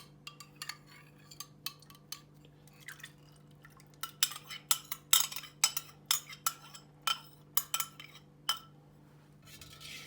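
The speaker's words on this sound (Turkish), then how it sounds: "Pürüzsüz bir hale gelecek şekilde özlediğim yoğurdu tencereme boşaltacağım." Sharp metal clinks of a utensil against a pot, irregular and quick, with soft wet drips and plops of yogurt being poured into the pot, in a quiet room.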